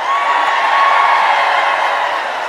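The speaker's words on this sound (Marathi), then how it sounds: "सगळे उभा राहून जोरदार टाळ्या वाजवा." A rally crowd at an Ahilyabai Holkar Jayanti event claps and cheers in a dense, steady roar of applause and shouts that holds at an even loudness throughout, with no single voice standing out.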